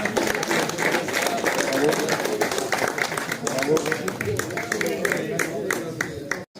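A crowd at a carp fishing enduro applauds a mixed team, a thick, continuous spatter of hand claps mixed with crowd noise that holds strong for several seconds before cutting off abruptly.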